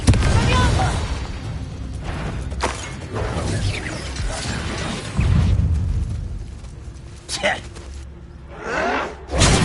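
A Confringo fire-blast spell cast during Hogwarts Legacy combat, heard as several loud, close booms and bursts over a dense, rumbling clatter of battle effects, with voices speaking at times.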